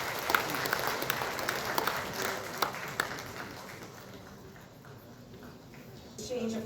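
Audience and dignitaries on stage applaud at the Odisha Tex 2025 textile event in Bhubaneswar, a steady clatter of clapping with a few sharper claps, fading slightly toward the end and swelling again, while a voice talks over it.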